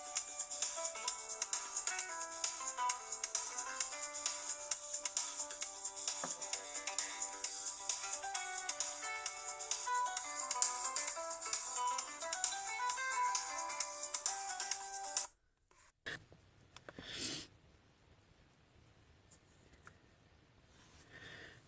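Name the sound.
incoming phone call ringtone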